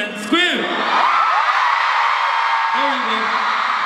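Concert crowd at a show in Hong Kong screaming and cheering in a sustained roar, with whoops and shouts rising over the dense noise and voices calling out on top.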